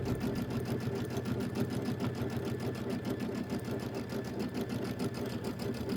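A sewing machine stitches Kimberbell quilt pieces in a fast, even, continuous chatter of needle strokes. It runs steadily and close up, with no talking.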